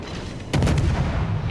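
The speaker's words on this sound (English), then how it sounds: "gun duel of a torpedo destroyer" Heavy naval gunfire from a torpedo destroyer trading shots with a heavy cruiser in World of Warships; a dull ambient rumble gives way halfway through to a loud booming salvo that rolls on and rumbles out, with no talking.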